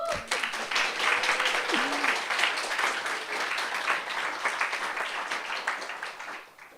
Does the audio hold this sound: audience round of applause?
yes